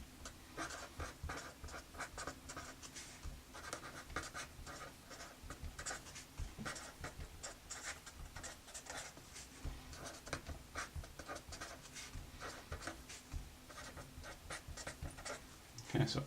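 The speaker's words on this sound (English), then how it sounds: "I'll write that down here really quickly." Pen or marker scratching out notes during a muscle physiology lesson: faint, steady scribbling strokes with short taps, continuing throughout over a low background hum.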